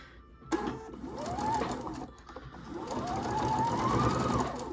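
A sewing machine stitches flannel quilt blocks in two steady runs, a close, loud mechanical whir that starts abruptly after a brief pause, dips once, then climbs and holds with no talk over it.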